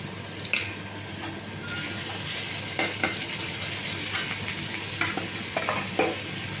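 Fried onion with crushed garlic stirred in a hot pan for khichuri, a constant sizzle under repeated close spoon scrapes and knocks against the pan, busy and fairly loud, with no talking.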